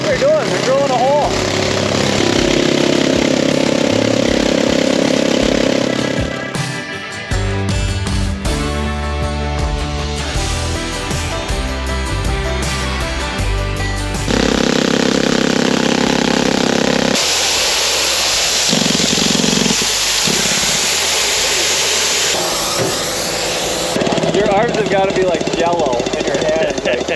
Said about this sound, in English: That thing is loud. Check out what they're doing. They're drilling a hole.